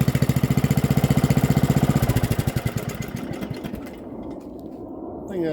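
A Troy-Bilt riding mower (model 13CC26JD011) idles with a loud, even, rapid chugging pulse for a couple of seconds, then slows and fades as the engine winds down and stops.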